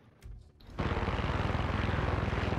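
An airplane engine in Far Cry 6 roars up suddenly after a short quiet stretch, then holds a loud, steady, throbbing drone.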